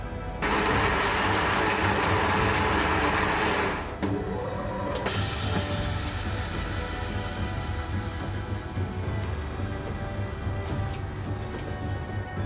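Soaked rice is ground in an electric grinder to make noodle batter. A loud, steady motor roar runs throughout, breaks briefly near four seconds, then resumes with a slightly changed tone and no talking.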